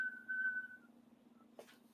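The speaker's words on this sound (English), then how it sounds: "What was that whistle?" A person on the street outside whistles one sustained, steady note that fades out, faint and distant over a low constant hum, followed by a short soft knock.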